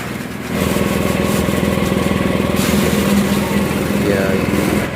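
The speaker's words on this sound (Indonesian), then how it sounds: "mesin untuk pencacahannya." A small engine-driven forage chopping machine, cutting sheep feed, runs loudly and steadily, its motor drone rattling with a rapid mechanical pulse after a quieter start.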